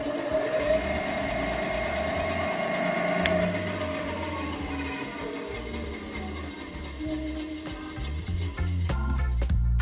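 A Laguna V10 bandsaw with balanced cast iron wheels runs with a steady, smooth mechanical whir and faint rhythmic humming, ending with a few sharp clicks and a low rumble.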